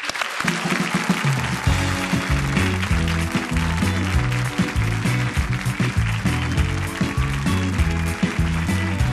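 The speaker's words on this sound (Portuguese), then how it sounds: "Vamos aplaudir" A television talk-show studio audience applauds in a steady, dense wash of clapping while a band plays a bright tune over it, the music and applause filling the whole stretch together.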